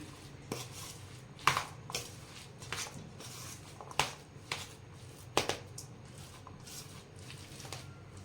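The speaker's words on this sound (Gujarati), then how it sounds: "બધું ચમચાથી મિક્સ કરી દઈએ" A spoon stirs pani puri masala of green chillies, coriander, ginger and salt in a bowl, giving a series of irregular clinks and scrapes, some sharper knocks, steady and close, with no voices.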